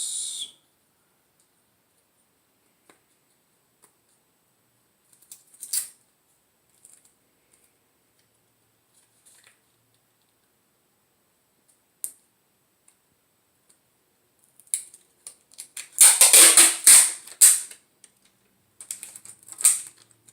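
Clear tape is pulled and pressed onto a paper journal, with a few faint clicks and rustles, then a loud burst of tape tearing and crinkling, followed by brief softer handling noises.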